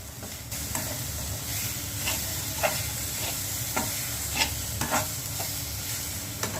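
Coconut and jaggery filling for ukadiche modak cooks in a pan, giving a steady sizzle with repeated scraping and stirring clicks, close and clear.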